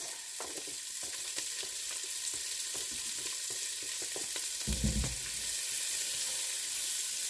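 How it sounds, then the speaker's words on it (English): Bacon and a roughly chopped half sweet onion sauté in bacon fat in a pan, giving a steady, close sizzle broken by light scrapes and clatters from stirring. No one speaks. "And I'm going to go ahead and saute that onion up real quick."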